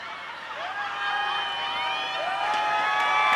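A crowd of PNM supporters cheers and shouts at a night political rally in Trinidad and Tobago, building into a dense, sustained roar with scattered whoops and whistles.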